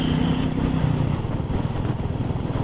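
Royal Enfield Meteor 350 motorcycle riding along a road, a steady low engine thrum with a rattling, pulsing texture throughout and some wind noise, close and moderately loud with no talk.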